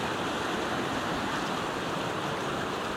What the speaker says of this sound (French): les belles vagues là. Belle houle.